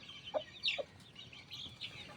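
A few short clucks from a yellow hen, close by, spaced irregularly over a quiet outdoor background.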